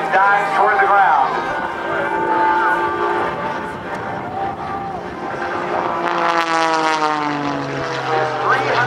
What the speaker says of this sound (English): This 300 horsepower, Extra 300S is powered by an AEIO 580 Thunderbolt fly-combing engine.